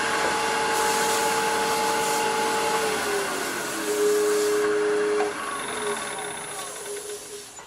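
A metal lathe runs steadily with a constant whirring hum and high tonal whine that shifts partway through as the cut or speed changes, close and fairly loud, with no talking.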